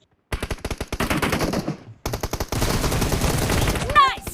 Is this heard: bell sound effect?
no